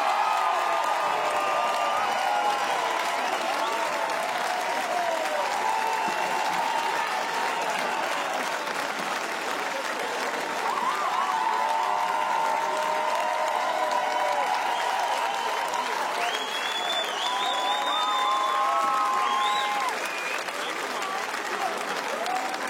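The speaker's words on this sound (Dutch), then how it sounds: "Een ovationeel applaus hier in de Hoenderstal voor waarschijnlijk de jongste winnaar van Opus Jokers" A large audience in the Hoenderstal gives a sustained ovation at the Opus Jocus 2024 contest, with dense applause and some cheering filling the hall steadily for over twenty seconds, and occasional voices rising above the clapping.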